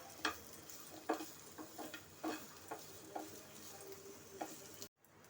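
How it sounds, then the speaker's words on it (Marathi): Chopped onion frying in oil in a pan for a Maharashtrian chicken rassa, a steady close sizzle with a scatter of sharp stirring clicks and scrapes, ending abruptly in near silence. "कांदा छान लालसर होईपर्यंत परतून घ्यायचा"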